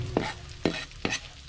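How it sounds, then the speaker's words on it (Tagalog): Garlic and onion sautéing in a pan for humba pork, with three distinct scraping stirs over a soft continuous sizzle, close by with no talking. "unahin natin yung bawang. Then susundan natin ng ating sibuyas."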